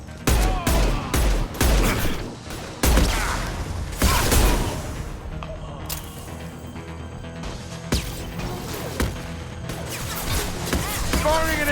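Mass Effect 2 combat: a chaotic volley of gunshots and heavy impact blasts, sharp cracks and crashes packed close together over a busy layer of game sound effects, with voices speaking at times.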